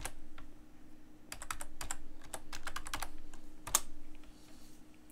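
Someone types a password on a computer keyboard, a steady run of crisp, close key clicks in bursts with short pauses, one louder keystroke near the end, over a faint low hum.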